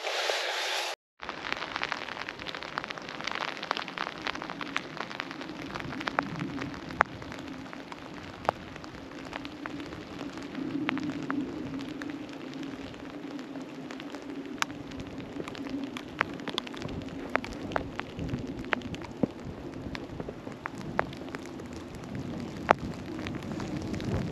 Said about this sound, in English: And it is raining now, so it's pretty miserable, to be honest.